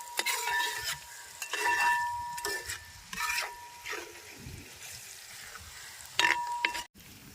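Garlic and ginger with a little salt fry in a pan for a traditional snakehead fish pickle, stirred with a utensil: intermittent scraping strokes and clinks come over a soft sizzle, close up, at an uneven rhythm.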